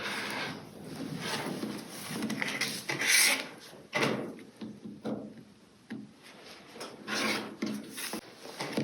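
Rotary cutter rolling along a ruler to trim a cactus-flower quilt block, a series of close raspy scraping strokes, several swipes with short pauses between them.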